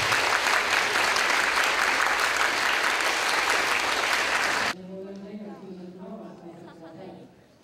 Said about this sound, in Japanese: 拍手で皆さん感謝してください。